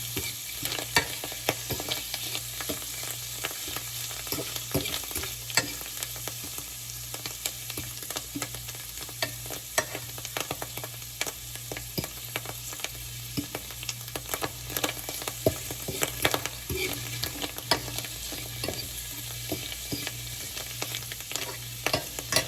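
Food frying in hot oil, a constant crackling sizzle with dense popping and spattering, close and steady throughout, with no talking.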